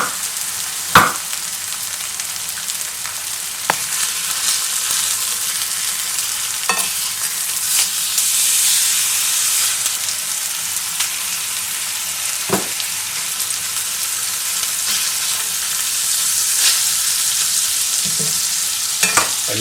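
Sirloin steak fries in a pan with butter, thyme and garlic, giving a steady loud sizzle throughout, broken by occasional sharp clinks and scrapes of stirring or handling, with no talking.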